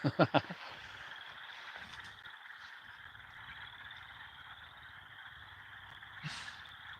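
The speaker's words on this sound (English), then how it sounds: "Frog soundtrack, yeah." Frogs croak at night in a steady, even chorus from a distance. A few sharp knocks open the sequence, and a brief louder call rises near the end.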